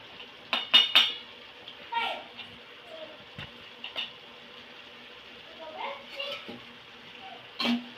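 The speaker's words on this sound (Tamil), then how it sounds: "உப்பையும் போட்டு நல்லா கிளறி விடுவோம்" Chettinad-style sundakkai pachadi is stirred in a pan with salt added, the spoon clinking and scraping against the metal in irregular bursts over a soft sizzle, while someone talks intermittently.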